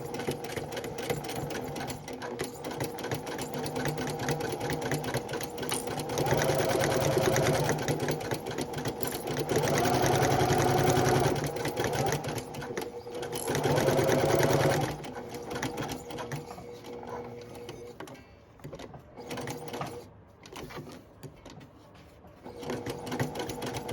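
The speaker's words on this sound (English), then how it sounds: "I will take this to the sewing machine and I will run a top stitch both on the long side that's open" A sewing machine runs a top stitch along the long sides of a reversible, washable fabric lanyard, whirring steadily in close, continuous bursts that briefly pause and restart near the end.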